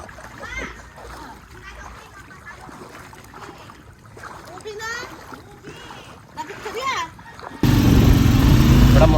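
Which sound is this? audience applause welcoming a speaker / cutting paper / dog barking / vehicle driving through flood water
vehicle driving through flood water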